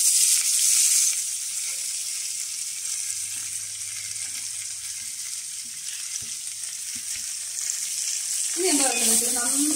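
Five medium onions, a handful of shallots and curry leaves fry in a pan for egg roast, making a continuous bright sizzle close up that settles slightly quieter, with faint stirring taps and a brief voice near the end.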